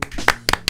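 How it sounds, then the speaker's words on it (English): A handful of quick, sharp hand claps from a small group of hosts, close and dry, landing in a brief uneven burst. "Round of applause for us."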